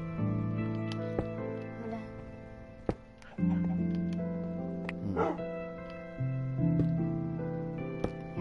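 Dogs in Minecraft on PS4 give short barks and yips, popping out over steady tonal game music with faint voices in the background.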